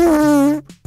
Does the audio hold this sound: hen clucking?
no